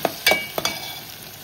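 Spices such as turmeric, Agri masala and coriander-cumin powder go into cooked onion and tomato in a pan for chana bhaji, giving soft sizzling with a few distinct scraping and stirring bursts nearby, no voices.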